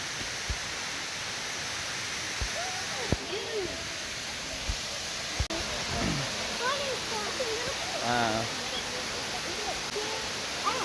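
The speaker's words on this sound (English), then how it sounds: "Look at that waterfall." Steady broadband rush of a waterfall fills the background throughout, with several people talking and calling out over it and a few sharp handling knocks.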